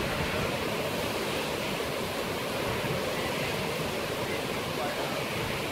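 Heavy rain pours down in a dense, steady roar of falling water that stays loud and unbroken throughout, with no pauses or letup.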